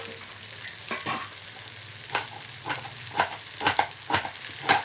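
Garlic and onion sauté in a little oil for a Maharashtrian brinjal curry, giving a steady close sizzle with scattered stirring scrapes and clicks. No one speaks.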